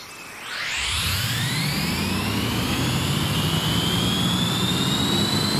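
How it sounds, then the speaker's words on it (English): A loud vehicle engine in the video game Battlefield 4 revs up with a rising, whining pitch that climbs and then holds as a sustained roar. "You guys ready to hear this engine purr?"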